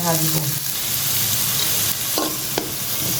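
Spring onion greens and green chillies frying in hot oil in a pan, a loud continuous close sizzle with a few stirring scrapes and clinks, no talking.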